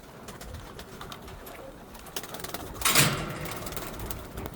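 Pigeon hens kept apart in a loft coo softly and repeatedly nearby, with a brief louder burst of fluttering or scuffling in the middle.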